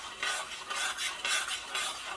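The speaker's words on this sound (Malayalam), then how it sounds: "ഈ ഗോതമ്പ് ഇതിനകത്ത് കിടന്നിട്ട് നന്നായിട്ടൊന്ന് മുരിയട്ടെ" Wheat toasting in coconut oil in a pan over a medium flame for a banana teatime snack, a soft close rustle that swells and fades in regular waves as it is stirred, fairly quiet with no voices.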